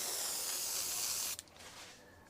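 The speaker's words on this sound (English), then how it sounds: "we're going to give both of these a spray. I've got it in my airbrush." An airbrush sprays enamel wash for weathering model railroad boxcars, giving a steady, close hiss for over a second that cuts off abruptly, leaving a faint trailing sputter.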